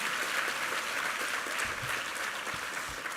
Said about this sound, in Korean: 우리 S 하모니 한번 격려의 박수 한번 드리겠습니다.